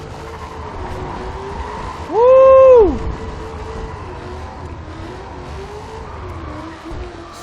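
An American muscle car rumbles steadily on a drive, its engine note swelling briefly near the start as a voice whoops over it, then settling into a continuous close drone.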